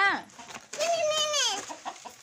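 A nearby hen in the rain gives a short cluck followed by a long, drawn-out squawking call, then softer clucks fade out at the end.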